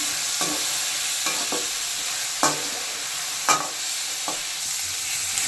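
Field beans sizzle in a hot oil tempering in a pan, a constant close crackling hiss punctuated by about six sharp stirring scrapes and clacks of a spatula.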